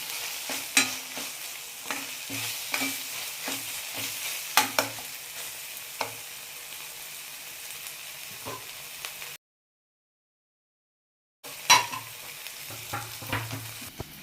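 A spatula stirs and scrapes through a sizzling pan of prawn fry mixed with coriander, producing steady rhythmic clinks over a soft frying hiss, then a brief silence before the stirring resumes.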